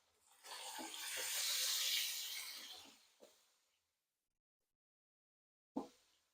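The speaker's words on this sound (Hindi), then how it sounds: "मसालों को फ्राई करेंगे।" Spices frying in a pan for Hyderabadi chicken tahari, a loud hissing sizzle that swells for a few seconds and then fades to silence, followed by a sharp clatter.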